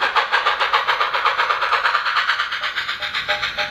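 A K27 Sn3 model steam locomotive fitted with a sound system runs forward, its synthesized chuffs pulsing in a quick, steady rhythm, loud and close, with no voices.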